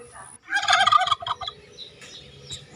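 Ducks and chickens call out nearby in a short burst of loud gobbling and squawking, followed by softer scattered chirps.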